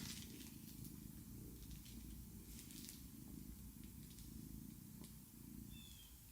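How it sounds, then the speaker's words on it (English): A cat purring steadily and close, a low continuous rumbling that runs the whole time with faint scattered small noises above it. "She's purring really loud."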